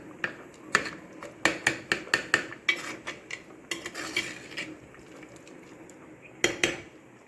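A utensil stirs scrambled egg with eggplant and curry leaves in a metal pan, giving a run of sharp, close clinks and scrapes in an uneven rhythm that thins out and then returns briefly near the end.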